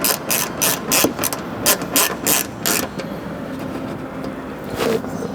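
Socket wrench with a T25 Torx bit tightening flare brackets on a 250 Prado, a rapid run of close, crisp ratchet clicks for about three seconds, then quieter handling.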